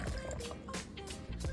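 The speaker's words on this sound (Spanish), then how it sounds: "Le vamos a agregar un poquito de agua." Water poured into habanero salsa in a kitchen, a brief run of splashy, gurgling liquid sounds in irregular bursts, close and fairly clear.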